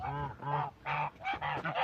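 Close, loud goose honks in a quick run of five separate calls, each a nasal, harmonic blast with short gaps between, alone without talk.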